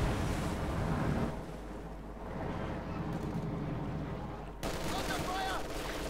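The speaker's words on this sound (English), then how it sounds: "And there goes straight into another MG42 sit down by Ferris." Distant rattling MG42 machine gun fire from the World War II strategy game Company of Heroes 2, set against steady battlefield noise and a low rumble, with a commentator talking over it.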